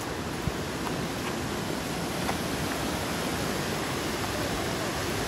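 A large river flowing, a broad, steady rush of water at a constant level throughout, close and full, with no talk.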